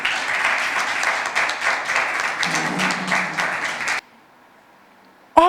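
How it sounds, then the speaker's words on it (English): Audience applause at a secondary school debate, a steady, fairly loud round of clapping for about four seconds that stops abruptly into near silence before a voice begins. "Please give him a round of applause."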